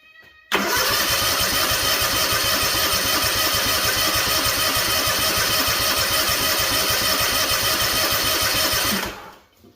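A Kawasaki FR730V V-twin engine in a Cub Cadet SX60 mower cranks over continuously on the starter for about eight seconds with a fast, even rhythm, loud and close, then winds down without firing.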